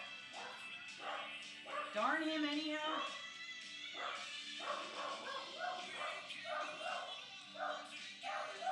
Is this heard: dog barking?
yes